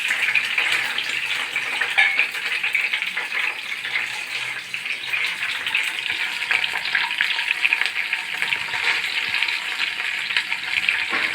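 Green chillies frying in hot oil for a Telugu fish gravy curry, a steady loud bright sizzle with fine crackling pops, unbroken throughout and with no talking.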